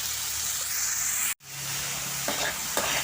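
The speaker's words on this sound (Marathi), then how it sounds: "कांदा थोडंसं परतून घ्यायचा, आणि सोबत टोमॅटो पण टाकायचा" Chopped onion and tomato fry and get stirred in a pan, giving a steady, close sizzle with scraping stir strokes. A brief cutout breaks it just before the midpoint, then the frying resumes with a couple of louder stir scrapes near the end.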